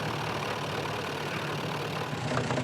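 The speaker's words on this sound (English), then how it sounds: "the engine doesn't sound good. There is a slight knocking" Engine of a 1970s Bond Bug car running, a steady rough idle with a slight knocking, close and continuous for under three seconds.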